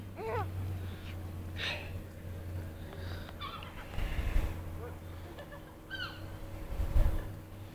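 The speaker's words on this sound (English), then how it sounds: "Did you enjoy the seagulls?" Seagulls at Horseshoe Bay give a few short, nasal calls at moderate distance over a steady background rumble, with people talking nearby.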